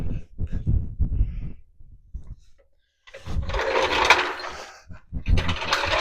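Car jack lowering a Chevy Nova, with low knocking and clunking at first, then a harsh broadband ratcheting hiss that swells and drops, close by, with no talk.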